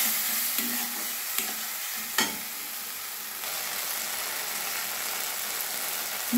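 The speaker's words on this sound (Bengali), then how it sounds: "মশলাটা ভালোভাবে কষে নেব।" A spice paste made from ground spices and water fries and is stirred in a pan for a mustard puti fish curry, giving a continuous sizzle broken by a few sharp scrapes of the spoon, close and with no talking.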